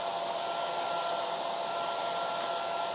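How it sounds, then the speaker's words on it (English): A hair dryer blowing on freshly stencilled paint for a nativity set: a loud, close, steady whirring rush with a constant tone throughout and no talking. "I will hit that with the hairdryer."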